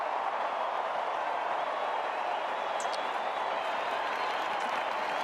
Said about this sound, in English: they were happy to join in the Fremantle supporters' applause for one of the much admired players in footy